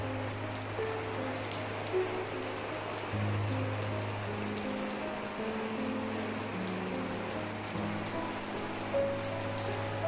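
Steady rain falling in a Himalayan village in Uttarakhand, a continuous broadband patter with scattered droplet ticks and a low constant hum beneath, no voices.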